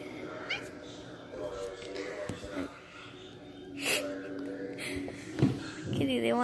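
A pet cat meows several times close by, short plaintive cries scattered through the clip, mixed with snorting breaths and a person talking softly over them.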